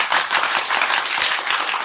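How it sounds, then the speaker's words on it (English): Brief, loud, continuous applause from a group during a radio show, many hands clapping evenly without talk. "Let me give you some applause over there"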